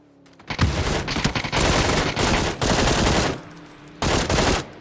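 Automatic gunfire in PUBG, loud and close, coming in long sustained bursts with short gaps between them.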